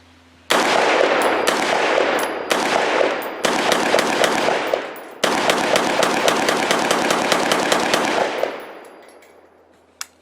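A Brownell's BRN 601 rifle fires a 20-round string in loud, close bursts of rapid shots with brief pauses between groups, then a long sustained run. The firing stops near the end, followed by a short metallic clack.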